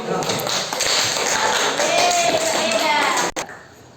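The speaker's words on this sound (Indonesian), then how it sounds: "Ya, beri tepuk tangan." Classroom audience of students claps in a dense, steady burst of applause for about three seconds that stops abruptly, with talk mixed in underneath.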